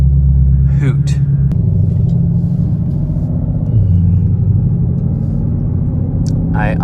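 A 760 hp Ford Mustang Shelby GT500 on the road, heard from inside the cabin as a deep steady engine rumble that shifts pitch as it drives, with brief voice sounds over it.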